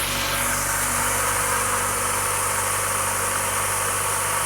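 A stock-exhaust 1995 Mazda MX-5 Miata engine idles with a steady, even hum and no audible tick, close and continuous with no one speaking.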